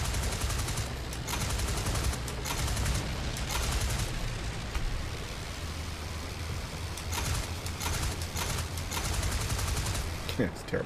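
Aircraft machine guns fire in a World War I flight combat game, with bursts of rapid gunfire over a constant engine drone and wind roar, fairly loud and continuous with a few sharper bursts.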